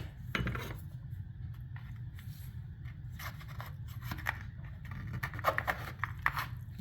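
A knife saws and scrapes through a slice of homemade buttermilk pie, faint rasping cuts and light clinks against the dish over a low steady background hum.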